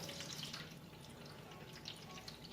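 Tap water running steadily into a baking dish to make a water bath for oven-baked rice pudding, a continuous moderate hiss and splash with no voices.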